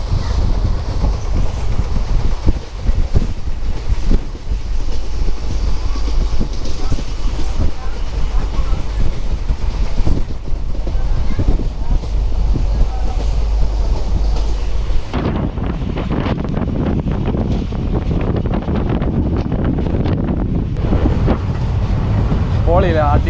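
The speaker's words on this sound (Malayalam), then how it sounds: "ട്രെയിൻ എന്ന് പറഞ്ഞ റൈഡ് വേറെയാണ് അല്ലേ" A passenger train carriage rattles and clatters along the rails in rainy weather, loud and continuous with wind buffeting the microphone, the sound shifting character partway through as the car moves on.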